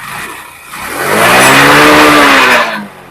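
A TVS XL100 BS6 moped engine revs up under throttle, rising to a loud sustained whine for over a second before dropping back to idle; no talking is heard.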